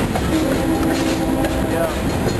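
NECR 611, a northbound freight train, rumbles past in Amherst, Massachusetts. It makes a loud, continuous roar with faint wheel clatter, heard close by, and voices can be made out faintly beneath it.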